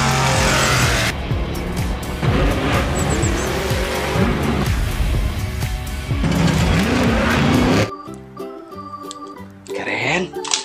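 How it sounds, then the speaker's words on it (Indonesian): Rally truck car with a loud engine roar and tire squeal, heavy and continuous before cutting to a quieter, more tonal stretch near the end; talk runs over it. "Ada mobil truk rally."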